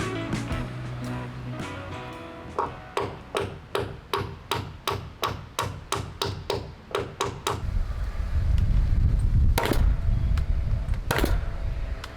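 Hammer driving nails into a wooden shed roof rafter, a run of about twenty sharp, evenly spaced strikes, close and loud, followed by a rumbling, shuffling stretch with a couple of further knocks.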